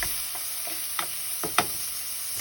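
Ginger sautéing in a pan for chicken curry, a quiet continuous sizzle with several sharp spoon scrapes and knocks against the pan, close by, a faint steady high whine running underneath, no talking.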